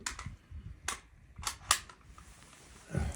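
A short rifle fires IMI ammunition in a five-round group at an outdoor range. Several sharp, quiet reports sound at irregular intervals, with faint background noise between them.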